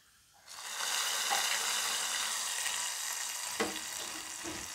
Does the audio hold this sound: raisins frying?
yes